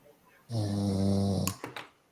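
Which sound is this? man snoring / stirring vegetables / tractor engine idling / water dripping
man snoring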